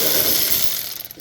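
A socket ratchet on a Toyota Tundra front suspension spins out a bolt in a fast, loud, continuous metallic zipping burst, close up, ending with a sharp clack.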